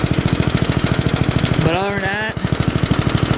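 An S-17 engine runs with a steady, rapid pulsing chug, loud and close throughout, while someone speaks briefly over it.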